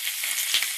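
Fish frying in a pan with turmeric and salt, a bright steady sizzle with a brief scrape of stirring partway through, close and alone.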